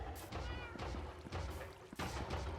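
Pet cats in a Minecraft game meow several times in quick succession, fairly clear and near, with faint background noise and no talk over them.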